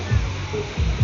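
Water rushing over rocks in a stream or waterfall forms a close, continuous roar, partly masked by someone speaking over it.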